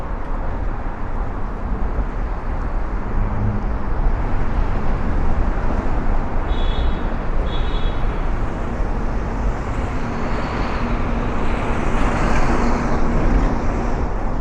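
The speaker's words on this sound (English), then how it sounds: "I had to raise my voice to get over a lot of this traffic." Heavy street traffic on Third Avenue in Brooklyn, New York City: a loud, constant roar of cars and buses close by, with faint higher tones rising above the wash now and then and no voices.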